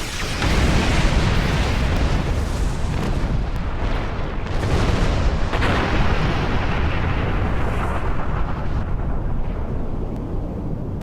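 Starship torpedoes fire and burst in Star Trek Online as a long, loud, continuous roar of booms and rumbling explosions. The blasts run unbroken for about eleven seconds with no speech.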